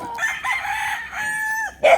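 A Boston Roundhead fighting rooster crows loud and close at a farm of about 500 birds in Tanauan, Batangas, one long crow followed by a short sharp squawk.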